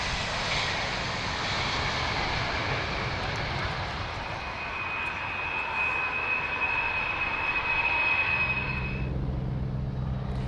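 Aircraft engines at reverse idle during a landing roll give a steady broadband roar with a thin high whine, easing off toward the end as a lower rumble takes over.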